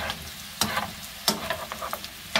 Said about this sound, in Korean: 기름에다가 어느 정도 볶은 다음에 감자를 기름에 볶은 다음에 물려넣고